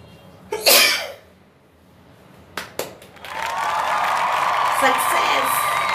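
A sharp, loud sneeze after sniffing strong pepper powder, followed by a couple of smaller explosive bursts and then a sustained noisy exhale or reaction.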